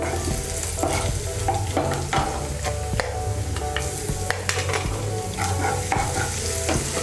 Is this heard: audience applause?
no